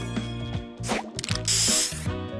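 The spray booster in the Match Masters mobile puzzle game lets out bright hissing spray bursts, the longest near the end, over looping game music tones.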